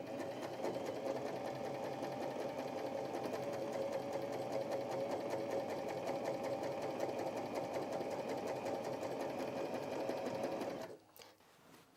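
A Janome J3-20 sewing machine runs steadily at even speed while stitching through four layers of fabric, a continuous close mechanical whir and rapid needle clatter that stops abruptly near the end.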